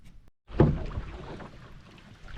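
Canoe paddling on Tin Can Mike Lake in the Boundary Waters, a brief moment of silence and then a close paddle stroke splashing and dripping, followed by gentle water and soft wind.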